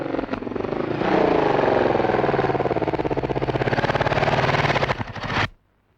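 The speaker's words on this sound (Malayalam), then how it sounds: "ഒരു മോട്ടോർ സൈക്കിളിന്റെ ശബ്ദം." A motorcycle engine running close and loud, a rapid rumbling putter that rises and holds steady for several seconds before cutting off abruptly.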